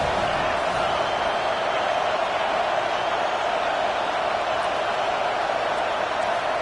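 A football stadium crowd cheering on the defense on third down: a steady, dense roar of many voices at constant loudness, without distinct claps or words.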